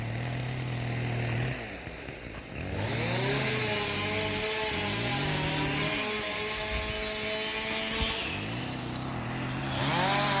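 A chainsaw buzzes and revs repeatedly, dipping in pitch as it bites into a fallen tree branch after an ice storm, with brief pauses between cuts; fairly distant.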